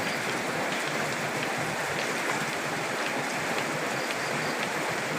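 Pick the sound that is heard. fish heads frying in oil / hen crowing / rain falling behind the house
rain falling behind the house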